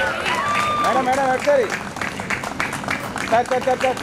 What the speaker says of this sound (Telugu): అందరూ క్లాప్స్ కొట్టాలి.